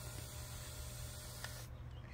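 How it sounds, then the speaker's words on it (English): A spray bottle mists water onto a large praying mantis, a soft steady hiss that runs nearly the whole time, close and fairly quiet, with a faint brief tick partway through. "why are we spraying her with water?"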